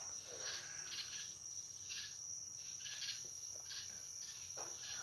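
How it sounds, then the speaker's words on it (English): Night insects chirp in a dense, steady high trill, joined by softer bursts of croaking or calls from frogs, with faint, distant texture underneath and no voices. "How you like the sound of all these fucking bugs and fucking frogs and shit?"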